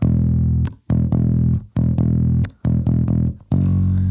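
Clean and distorted bass tones blended into one bass sound, the gritty layer tucked low beneath the clean one, playing a chopped riff of short sustained notes with brief gaps between them.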